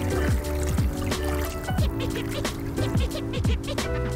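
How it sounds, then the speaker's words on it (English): Raw pork spare ribs being rinsed in a bowl of water, with repeated sloshing splashes and drips at a steady rhythm, close and fairly quiet. "I'm gonna rinse them in some water."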